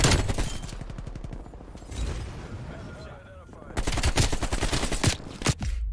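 Rapid AK rifle gunfire from a PC shooter game, loud bursts of rhythmic shots in two main volleys with a short lull between, over game background noise.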